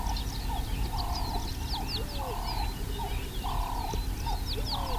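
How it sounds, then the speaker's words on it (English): Hooded vultures squabble over a carcass out in the open, giving harsh squeals and repeated chattering calls over a constant, dense background of other birds and insects. "Working around the fringes are the hooded vultures"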